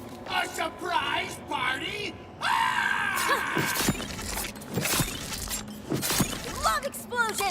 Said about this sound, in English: Love explosions!